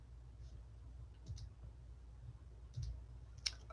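A computer mouse clicks a few times, quick and faint, about four separate light ticks spread over a few seconds against a quiet low room hum.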